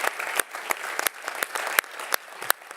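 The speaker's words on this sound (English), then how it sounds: "May I ask a round of applause to the Family Law Commission, Simon Bruce." At the UIA congress closing ceremony in Florence, a modest audience applauds the Family Law Commission, with sparse, distinct claps standing out in an uneven rhythm over a thin background of clapping.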